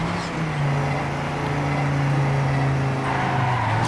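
A car in TrackMania 2: Canyon drifts with a steady, loud engine drone and a sustained tonal whine that shifts pitch near the end, like tires sliding through a turn. No one speaks.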